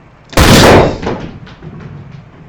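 An airsoft launcher fires a Nerf football with one loud, sharp pneumatic blast, followed by a brief rattling decay and faint knocks as the shot settles.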